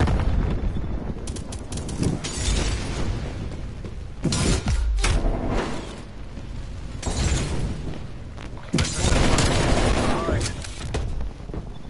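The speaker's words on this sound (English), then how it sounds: "Throwing frag." Combat in Call of Duty Black Ops Cold War with a thrown frag grenade among repeated loud blasts and gunfire bursts, dense and close throughout, with voice callouts over the action.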